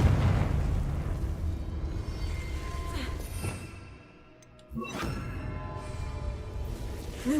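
A blasting spell explodes in a video game with a booming burst over a dense rumble, followed by a brief lull and then a second sharp blast and whoosh, loud and close, with no talking.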